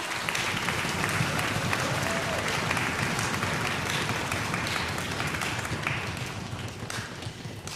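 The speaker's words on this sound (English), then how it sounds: "We're doing a full clap." Audience at a school orchestra concert giving full applause, a dense continuous wash of many hands clapping throughout, easing slightly toward the end.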